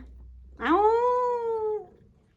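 A single drawn-out cat meow, rising then holding steady before trailing off, close and clear against a quiet room, with no talking.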